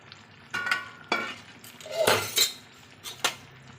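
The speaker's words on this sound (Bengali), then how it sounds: "ঝোলটা ফুটে গেছে অনেকক্ষণ এবার মাছগুলো আমি দিয়ে দিচ্ছি" Singi fish dropped into a simmering papaya and potato curry in a pot, a few close clinks and splashy knocks of utensil on metal over a soft bubbling background.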